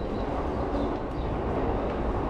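Steady low rumble of a metro train inside a busy Japanese subway station, a continuous near roar of rolling wagons with faint higher squeals over it, no voices standing out.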